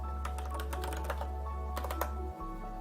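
Fingers tap a computer keyboard in a short burst of quick, light key clicks, close and crisp over a low steady electrical hum.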